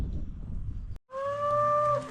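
A cow moos once, long and loud, close by on a working cattle farm, after a short stretch of low rumbling background noise.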